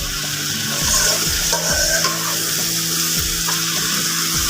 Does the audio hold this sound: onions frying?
yes